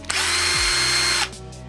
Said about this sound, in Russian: И на второй скорости в данном моменте на шуруповерте